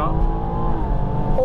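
A Stage 3 Pure800-tuned BMW M240i accelerates hard, its engine note loud and close, holding a steady rising drone with a brief pitch change near the end.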